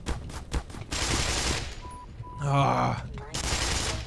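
Assassins firing small pistols in the video game Black Mesa, a burst of quick gunfire with rapid repeated shots, close and loud, mixed with game noise while a player groans and talks over it.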